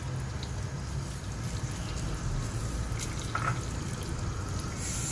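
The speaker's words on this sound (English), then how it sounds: "Now the oil is hot, let's add some fenugreek seeds." Fenugreek and mustard seeds frying in hot oil for a garlic curry give a steady, close sizzle with fine crackling that holds at an even level throughout.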